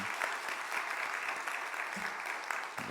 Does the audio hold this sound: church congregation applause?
yes